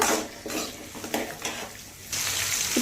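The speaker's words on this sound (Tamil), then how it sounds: "இதில் ஒரு கொத்து கருவேப்பில்லை நல்லா வதக்குங்க வெங்காயம் நல்லா வதங்கி வரணுங்க" Onions and a sprig of curry leaves sauté in a pan for country chicken curry, with close stirring and clinks of a spoon against the pan over a steady sizzle that briefly rises toward the end.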